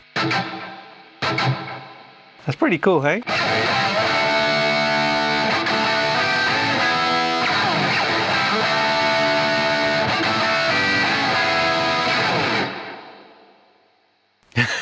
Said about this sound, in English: Guitar in the left, reverb in the right.